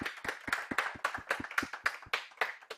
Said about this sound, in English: So we'll give you an applaud here.